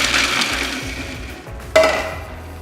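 Food processor grinding cashews into a parmesan-style crumb, a steady loud whirring grind that runs throughout, with a sharp clatter partway through and no talking.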